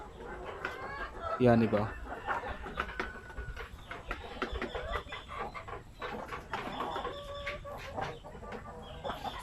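Native chickens on a farm cluck and cackle near and far, with one loud squawking burst early on, while someone speaks briefly over the steady background of fowl.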